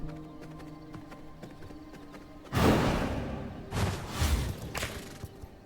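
Horse hooves clip-clopping in the game V Rising, a burst of rapid thudding hoofbeats with whooshing movement starting partway through, then a second surge of galloping, moderately loud against quiet background game sounds.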